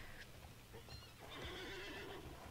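A horse neighs in the Alicia Online video game, a close whinny with hoof clip-clops over a steady background hum, running for a few seconds.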